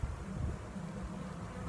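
Honey bees at an open hive buzz steadily as the brood comb is exposed, a close, dense, continuous hum without talk throughout the short moment.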